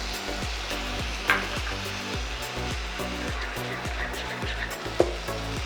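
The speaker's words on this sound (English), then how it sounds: "Give a nice stir" Rice pulao with vegetables and nuts, with a little milk added, being stirred in a pan: a regular, rhythmic scraping and knocking of the spoon, repeating about every half second over a loud steady hiss.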